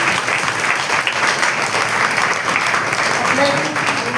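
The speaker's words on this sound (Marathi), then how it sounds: "टाळ्या वाजूया आपण सगळ्यांसाठी." Audience applause rises at a kirtan for Ashadhi Ekadashi, a broad, steady wash of many clapping hands continuing at even loudness, with faint murmuring voices underneath.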